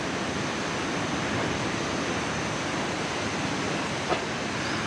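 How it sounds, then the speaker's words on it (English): Ocean surf heard from a trail through a tropical garden near Hilo, Hawaii, a steady broadband wash of waves, distant and even, with no talking. "now you can see the ocean through the trees and you can hear it just a little bit"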